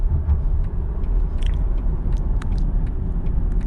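Low, steady rumble of an LS1 V8 engine in a Holden Statesman (Stato) while driving, a constant deep drone heard from inside the cabin with a few faint clicks and taps.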